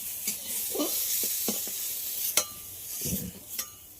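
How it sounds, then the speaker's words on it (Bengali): Salted cauliflower pieces fry in a pan, a quiet, steady sizzle broken by several sharp clinks and scrapes of a spatula. "লবণ দেওয়ার পরে আবারও খুব ভালো করে ভেজে নিয়েছি"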